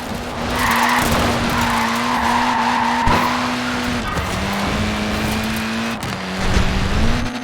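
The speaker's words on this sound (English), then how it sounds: "Look at that, laying down some rubber there." A Mini in Forza Horizon 4 slides through corners on its tiny tyres, giving off a sustained, loud squeal and skid with engine drone underneath, pitch shifting in steps as the car drifts and corrects.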